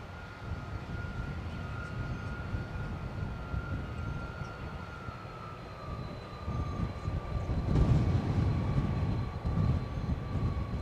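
A DC-10 airliner's engines roar in a steady, fairly distant drone with a sustained whine, swelling somewhat louder toward the end, heard outdoors with no talking.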